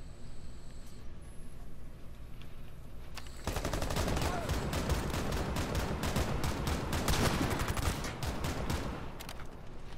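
Rapid bursts of video game gunfire erupt loud and dense after a quieter opening, continuing as sustained automatic fire throughout with no spoken voice over it.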